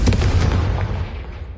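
A Confringo spell explosion in Hogwarts Legacy, a loud, close fiery blast with a deep rumbling body that decays over about a second and a half.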